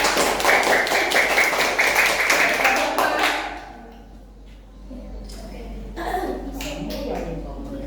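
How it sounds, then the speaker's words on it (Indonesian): Classroom clapping for a student group, a quick burst of many hands for about three seconds, then quieter scattered taps and voices. "Tepuk tangan untuk kelompok 3."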